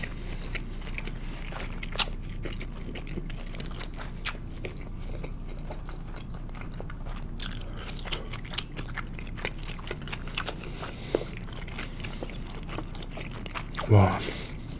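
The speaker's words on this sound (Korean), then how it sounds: "자이언트 연어 초밥부터 먹어볼게요." Giant salmon sushi from an E-Mart Traders assortment being bitten and chewed up close, with soft crunchy bites spread through the clip and a louder bite near the end, while a voice talks at times.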